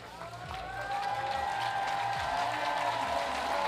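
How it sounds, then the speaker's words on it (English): Crowd applause and cheering at a bouldering competition finals, a broad wash of clapping heard at a distance beneath a sustained tonal whistle or horn, with no clear voices on top. "And big applause."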